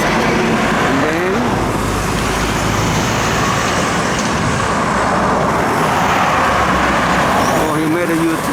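Cars and other vehicles move through a busy road junction, a loud continuous roar of engines and tyres with passing surges, and a voice talking over it.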